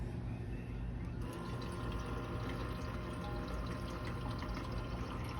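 Steady low rushing and gurgling of water pumped into an Insignia ice maker, continuous and fairly quiet throughout, with a faint hum underneath.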